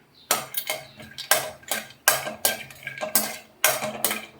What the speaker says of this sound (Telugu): ఇవి నిదానంగా వేగాలండి, సిమ్లో పెట్టుకొని వేయించుకోవాలి